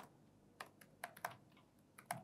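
Someone types on a computer keyboard while coding a task manager web app, producing a quick run of soft, irregular clicks that are close but faint, with no talk over them.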